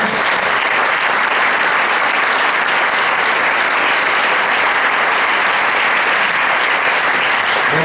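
An audience at a talk on economics applauds, dense steady clapping filling the room at full volume for the whole stretch.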